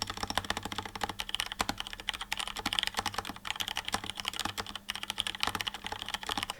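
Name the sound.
typing on mechanical keyboard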